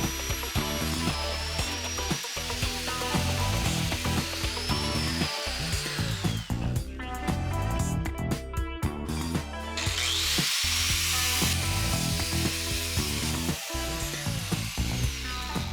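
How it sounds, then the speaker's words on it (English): A power tool grinds and wire-brushes bare metal on a car's front bumper brace being prepared for welding, a loud continuous whine with shifting pitch and rattling bursts as it bites the surface. "Here I cleaned a part of the bumper brace to weld back on."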